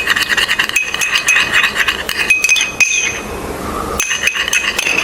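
A spoon stirs an aloe vera face pack in a bowl, making quick repeated clinks and scrapes close by, with a short lull before the stirring resumes.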